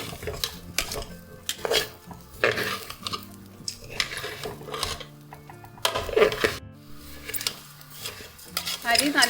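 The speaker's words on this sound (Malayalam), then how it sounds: "ഇതിലേക്ക് നമുക്ക് 2 കഷ്ണം പട്ടയും ഒരു 5 കറാമ്പും 5 ഏലക്കായും കൂടെ ഇട്ട് നല്ല പോലെ വഴറ്റി കൊടുക്കാം." A spoon clatters and scrapes against a pan while cinnamon, cloves and cardamom are sautéed for Malabar king fish biryani, with irregular metallic knocks and stirring strokes close by, over a faint background and no talking.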